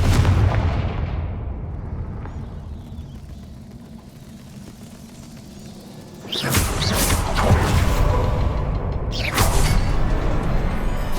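A Confringo fire spell from Hogwarts Legacy goes off with a loud, sudden blast, followed by a second burst a few seconds later, booming over a low ambient game background.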